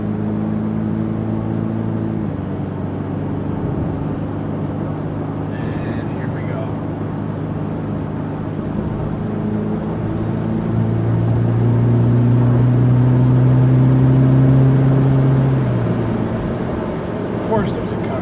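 A pickup truck engine labours up a steep hill, a steady low drone that swells and deepens toward the end with a rising tone, heard alone without talk and with the hum of road noise beneath it.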